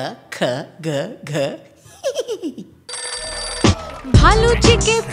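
A cartoon telephone rings loudly in a Hindi children's rhyme animation, with a burst of electronic ringing after a series of playful voiced squeals and giggly vocal sounds, and music comes in alongside it.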